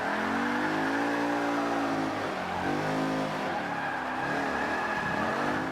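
Supercar drifting in Forza 5 with a continuous high engine roar and a sustained tire squeal over it, the pitch sweeping as the car slides, loud and close with no talking.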